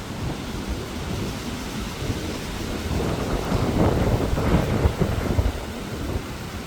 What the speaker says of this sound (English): You might not be able to hear me because it's so windy.